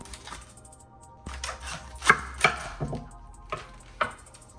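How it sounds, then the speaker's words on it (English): A knife chops through cabbage on a cutting board, several sharp knocks landing at uneven intervals, close and fairly loud against a quiet kitchen. "we're gonna chop up this cabbage"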